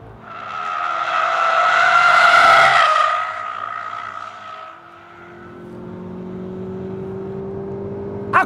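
An Audi S1 drifting with its rear sliding out, a loud rising tire squeal over engine revs that fades, followed by a steadier engine drone and a sharp sound at the very end.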